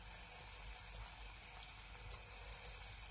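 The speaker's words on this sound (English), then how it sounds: "once you drop them, you're also going to want to stir a little bit to keep them from sticking together" Chin-chin dough pieces frying in a small pot of oil while being stirred, giving a steady, even hiss of bubbling oil that runs unbroken and fairly close throughout.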